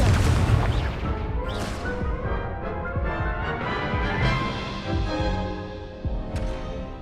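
Repeated Confringo fire-spell blasts in Hogwarts Legacy, dense booming bursts one after another through the clip, loud and close, with magical crackle and no talking.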